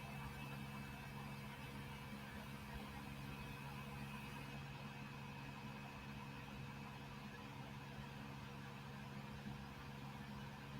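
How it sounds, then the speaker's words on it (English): An exhaust fan runs steadily in a workshop where a smoker is being painted, pulling out paint fumes; its faint, constant hum and whir hold an even drone with a low tonal buzz, without any voices. "I got an exhaust fan going on, so it's sucking out the fumes"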